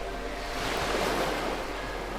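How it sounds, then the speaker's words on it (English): Ocean waves wash steadily onto a shore, a continuous broad surf rush with no pause and no voices. "a wave moving towards the shore and slowly returning."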